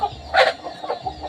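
Farm chickens scramble for scattered feed, giving a brief burst of close clucking and scratching.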